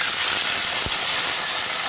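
Bay leaf, dried chilli and whole cumin tempering in hot oil in a wok, a loud, dense, steady hiss of sizzling with one brief low thump.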